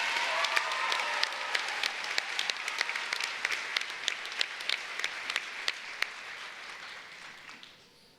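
A graduation ceremony audience gives a round of applause for the salutatorians and valedictorians, sustained clapping with distinct sharp claps standing out, tapering off toward the end.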